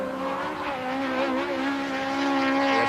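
A Mazda four-rotor race car at a 1993 Wesbank Modifieds round in East London, South Africa, sounding as a sustained loud engine whine whose pitch wavers slightly throughout.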